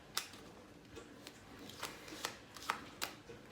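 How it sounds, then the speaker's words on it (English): Playing cards are shuffled by hand in several quick, crisp riffling bursts with short pauses between them. The sound is quiet and close, with no talking. "they're insisting that I shuffle the cards before we play"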